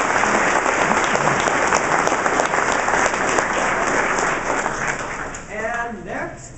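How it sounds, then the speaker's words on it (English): Sustained, dense applause from a spring strings and choir concert audience honoring an award winner, steady and full for most of the stretch before thinning near the end, where a voice briefly speaks. "Please give applause to Jasmine Swindlin."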